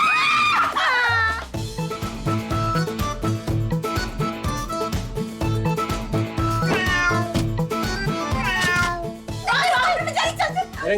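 A cat meows loudly and insistently several times in a domestic scene, its cries rising over a busy musical background score.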